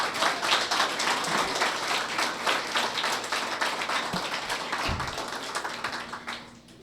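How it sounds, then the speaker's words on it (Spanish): A church congregation claps for the Lord in a lively, rhythmic burst of many hands, loud and close, with a few sharp knocks before fading out at the end. "Dele palmas al Señor"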